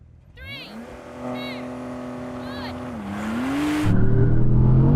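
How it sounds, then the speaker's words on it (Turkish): A Mercedes-AMG GT 63, Audi R8 and Porsche 911 Turbo launch in a drag race, engines rising in a loud, climbing whine and building into a heavier roar near the end, with a voice speaking over the start. "he got a good launch there, and I think the Porsche got its proper launch"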